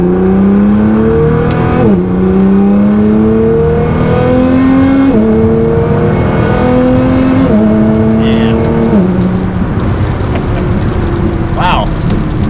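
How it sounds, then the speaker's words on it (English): A 600 whp Nissan GT-R on a 20 psi tune pulls through a partial-throttle acceleration in race exhaust mode, its loud, steady engine note rising through several gear changes, close and continuous, with road and wind noise underneath. "Do a smaller acceleration, not full throttle yet."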